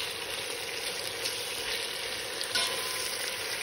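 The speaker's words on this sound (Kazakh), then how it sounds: "Бұл кішкене 5 минут қуырылсын." Meat and garlic fry in a pan with a steady, soft sizzle and faint stirring scrapes, quiet and close with no voices.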